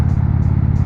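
Motorcycle with heated seat and grips, ridden on a road: a steady, loud, close engine drone with a low throbbing pulse, heard alone for under a second.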